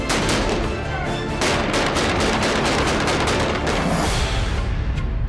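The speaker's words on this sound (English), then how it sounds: "Shooting live fire scenes is unlike anything you'll ever do." Live-fire gunshots on a film set, a dense, loud run of overlapping shots and bursts that continues without a break, with rapid rifle fire clustered near the start.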